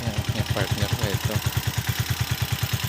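Motorcycle parked at a mountain stopover, engine idling with a steady, even low thump close by, while someone talks over it near the start.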